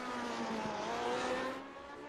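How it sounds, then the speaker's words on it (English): A Lotus 79 race car engine in a racing video game holds a loud, steady high-pitched whine as it speeds through the final sequence of the lap at Twin Ring Motegi, rising slightly before easing off near the end. "Love the sound of this Lotus 79 as Valiokis spears to the final sequence."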